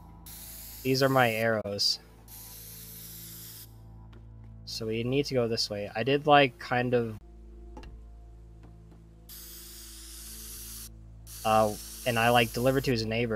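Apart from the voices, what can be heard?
spray paint spraying in the video game Teardown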